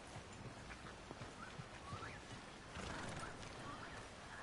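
Horse hooves clip-clop at a steady walk with an occasional whinny in Red Dead Redemption 2, set over a constant outdoor game ambience with no speech.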